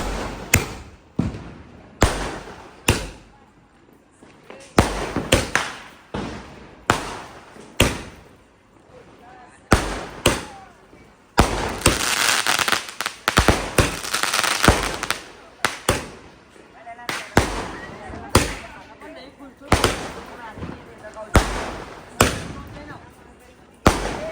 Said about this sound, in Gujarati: હજુ બી બધા ફટાકડા ફોડે જ છે